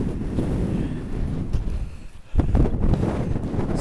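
Gusty wind sweeps across the open Overland Track near Mount Ossa and the Pelion Gap, buffeting the microphone in uneven surges that rise sharply near the end, with no talk.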